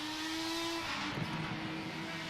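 A race car in the RaceRoom racing video game holds a loud, close, continuous engine whine, shifting down a gear briefly midway and then accelerating again.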